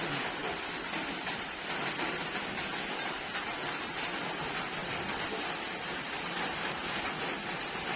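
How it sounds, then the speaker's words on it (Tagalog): Steady, even hiss of rain falling continuously, with no pauses or talking over it. "Umuulan pa naman ngayon"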